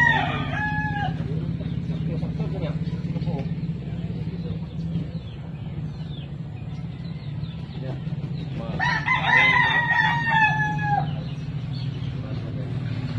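A rooster crows twice, a few seconds apart, over a steady low background hum, with clucking-like calls between.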